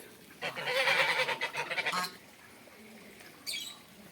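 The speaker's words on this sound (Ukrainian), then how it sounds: "Ось цей гусак, що кусається" A gander honks in a loud, harsh burst lasting over a second in a park, then quiet, followed by one shorter honk.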